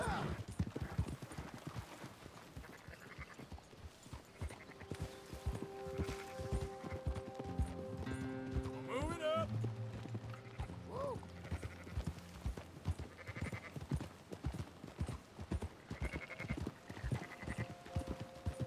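Horse hooves clip-clop steadily while sheep bleat during herding in the Red Dead video game, with music and voices talking over the rural scene throughout.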